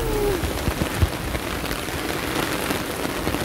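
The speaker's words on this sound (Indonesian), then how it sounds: "ini hujannya deras banget teman-teman" Heavy storm rain pours steadily during a typhoon in Taiwan, a dense, continuous hiss of drops on surfaces close by, with a few soft thumps and no talking.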